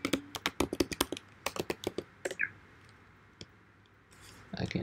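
Rapid bursts of computer keyboard typing as a username and password are entered, clicks clustered in quick runs with short pauses, then a lull and a brief resumption at the end; close and fairly crisp.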